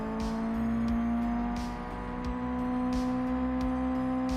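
A slow car in the Japanese Drift Master racing game drones with a steady, sustained engine hum and a few brief revs, close and even throughout without talk.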